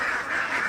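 Farm ducks kept for salted-egg production quack in a steady, busy chorus that fills the short moment, close and fairly loud with no voices over it.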